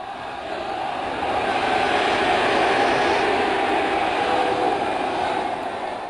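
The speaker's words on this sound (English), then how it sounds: "That's the crowd going wild." A steady, roaring crowd cheers in the arena of the online game EverQuest, a dense broadband wash that swells slightly and holds at a fairly loud level throughout, with no voices speaking over it.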